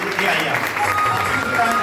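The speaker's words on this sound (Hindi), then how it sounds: "जोरदार तालियां बहन जी के लिए" An audience at a gathering gives a woman a round of applause: continuous, fairly loud crowd clapping that stays even throughout, with a voice or two mixed in.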